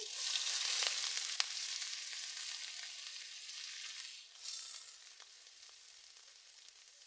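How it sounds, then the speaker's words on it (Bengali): Chopped onion and panch phoron hit oil in a kadai, giving a faint, continuous hissing sizzle with occasional tiny pops, fading a little toward the end. "কড়াইতে তেল দিয়ে দিচ্ছি আমি পাঁচ ফোড়ন দিয়ে দিচ্ছি কেটে রাখা পেঁয়াজ দিচ্ছি"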